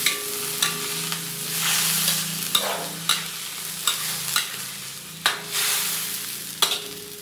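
Fried rice with a seasoning cube, no meat, sizzles steadily in a pan, with a spatula scraping and stirring in sharp knocks roughly every second, close and alone.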